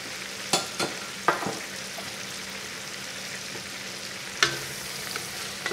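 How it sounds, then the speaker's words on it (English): Green peppers, celery and green onions sauté in a pan for a chicken étouffée, giving a steady close sizzle, with a few sharp utensil scrapes and taps breaking through the hiss. "And we're going to saute this"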